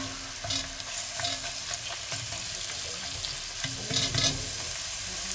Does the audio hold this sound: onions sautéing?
yes